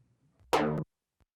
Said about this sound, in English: it sounds like a moog with some envelope on the filter